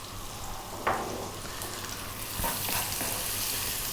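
Onion and chopped garlic fry steadily in a pan with a constant close sizzle, a couple of brief stirring scrapes standing out, and no voices.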